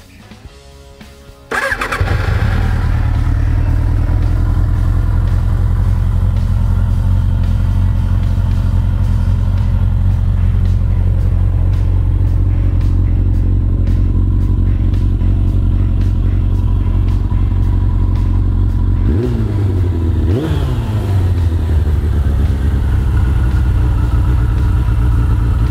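Suzuki RF900 motorcycle, a 900 cc bike, cranks and fires up, then idles loudly and steadily close by, with a brief rev blip near the end before settling back to a strong idle.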